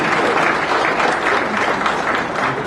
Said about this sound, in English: let's once again give them a great round of applause